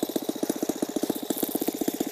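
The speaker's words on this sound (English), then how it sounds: "Saito FG14-B gas engine. I converted it to RCEXL ignition from the Saito brand." Saito FG14-B single-cylinder gas model engine converted to RCEXL ignition, running at a steady idle with rapid, even firing pulses, close and moderately loud, with no talking.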